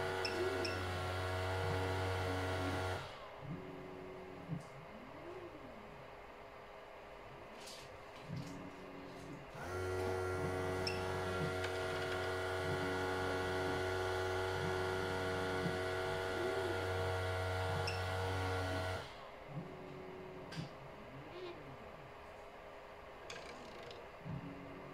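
A 3DPlacer PCB pick-and-place machine fitted with a silent motor driver hums and whirs through repeated movements, with steady motor drone broken by quieter gaps and brief mechanical ticks, close and alone.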